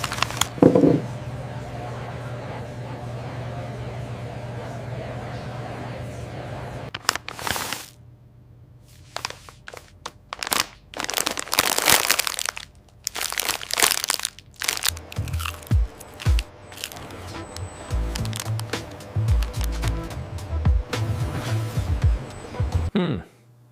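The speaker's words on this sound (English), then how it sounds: "Wow, these are seriously crunchy." Bamboo worm crisps crunch loudly in close, irregular bursts of crackling bites and chewing, with stretches of crinkling and quieter pauses between.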